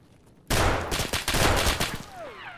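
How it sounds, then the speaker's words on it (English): A sudden burst of rapid gunfire in the shooter game Escape From Tarkov, a dense loud volley of shots lasting about a second and a half that then fades into echoing tails. "Hear shots? Someone might be below us."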